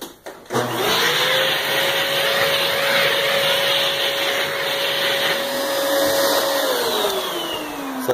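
A power drill bores new hinge holes in a door, its steady motor whine holding one pitch for about six seconds before spinning down, loud and close, with no talking.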